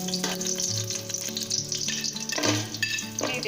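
Raisins fry in melted ghee in a heavy-bottomed pan, crackling and sizzling loudly up close with stirring scrapes and clinks mixed in.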